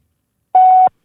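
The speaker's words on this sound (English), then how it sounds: "Leave me a voice message after the beep" A single steady electronic voicemail beep, one clean tone lasting about a third of a second, loud and alone against silence.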